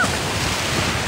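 Rough sea waves crash and churn continuously during a typhoon, making a loud, dense roar with wind noise blowing across the microphone and no voices.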